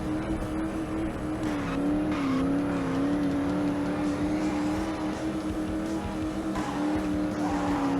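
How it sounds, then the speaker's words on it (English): A race car drifting in the Blaze and the Monster Machines video game, a steady droning engine whine that wavers in pitch under continuous tire hiss and skid noise, loud and unbroken throughout. "There is some drifting with the right bumper."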